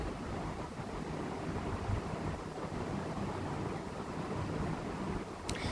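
Cubed potatoes sizzle lightly in a karai with cumin, dried red chilli and bay leaf tempering, a steady broadband frying hiss that runs close and even throughout, with a brief clink near the end.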